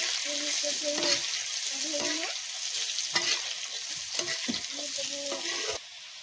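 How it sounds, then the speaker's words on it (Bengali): Potatoes dropping into hot oil with kalonji, ginger and a little turmeric, stirred and sizzling in short bursts over a steady frying hiss, close up, no voices. "ওর সাথে একটু আদা আর অল্প একটু হলদি। আর এইটার মধ্যে আলু দিয়ে দেবো।"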